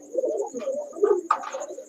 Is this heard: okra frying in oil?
no